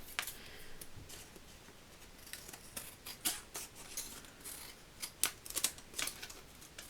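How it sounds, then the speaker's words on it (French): Scissors snipping off the excess paper on a handmade Father's Day card shaped like a jacket and shirt, a series of close, crisp, irregular cutting clicks with quiet pauses, no talk. "on va venir couper ici ce qui dépasse"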